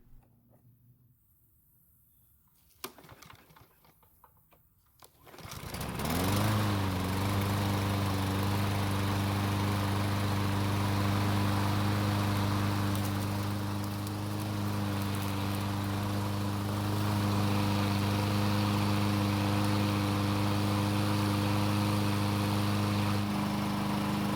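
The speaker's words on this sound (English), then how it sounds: "it started and ran just fine, and it sounds really good for a 6-year-old lawnmower" A few faint clicks and fumbling, then a six-year-old Troy-Bilt lawn mower engine starts after repair and settles into a loud, steady running drone that continues to the end.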